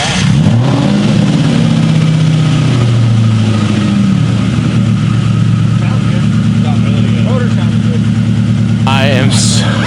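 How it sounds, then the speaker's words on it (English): A built Ford Mustang GT V8 fires up and settles into a loud, steady, rumbling idle close by, with a brief rev near the start and a voice speaking over it. "so relieved that the Mustang starts"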